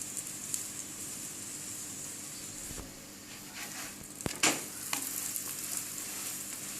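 Papad paratha frying in ghee on a pan gives a steady, close sizzle, broken by a few soft scraping and tapping sounds from handling the flatbread. No one speaks.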